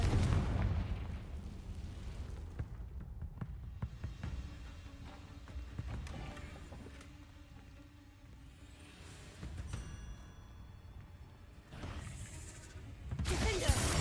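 Repeated Confringo blasting-spell explosions in Hogwarts Legacy, booming bursts scattered over a busy rumbling battle bed, with a loud blast near the end and no talk.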